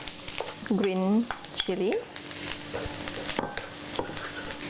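Onion and garlic fry in a pan for a jackfruit curry and get stirred, a soft continuous sizzle with scraping stirs beneath a person speaking.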